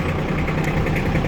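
A Japanese ISEKI GEAS25 mini tractor's small diesel engine runs steadily at around 3000 rpm, a loud, close, continuous rumble with no talking.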